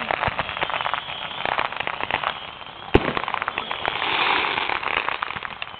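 A Fourth of July fireworks show crackles continuously at a distance, dense popping and sizzling bursts with one sharp louder bang midway, forming a steady wash of crackle.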